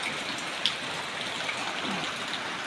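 Steady rain pours down on surfaces outdoors while people stand waiting to offer alms to monks, a dense continuous hiss with scattered drips and no voices.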